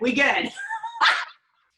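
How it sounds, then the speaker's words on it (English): Dogs and puppies barking and yipping in a short close burst, a couple of quick harmonic yelps followed by a sharper bark, then silence. "We got puppies barking. We got dogs barking."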